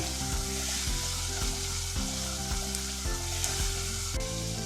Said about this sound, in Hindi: तमाम मसालों को अच्छी तरह मिक्स करेंगे, 1 मिनट तक फ्राई करेंगे।